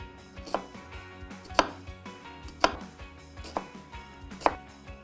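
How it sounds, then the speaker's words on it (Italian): A knife finely chops onion on a board for a ragù filling, with soft rapid cuts and about five louder, sharper knocks spaced roughly a second apart, close and quiet, with no voices. "Facciamo un trito finissimo di cipolla"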